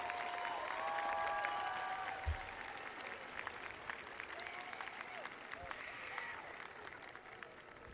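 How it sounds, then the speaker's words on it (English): Audience applause at a 2021 Hixson High School graduation, honoring the standing school staff; steady clapping from a large crowd, slowly thinning, with faint voices mixed in. "Let's give them a round of applause"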